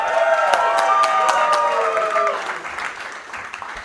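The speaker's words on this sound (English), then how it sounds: "applause for your next comic" Applause and cheering rise from a comedy club audience at Helium Indianapolis during a stand-up competition as the next comic takes the stage, loud at first and then fading out over a few seconds, with some voices and whistles mixed in.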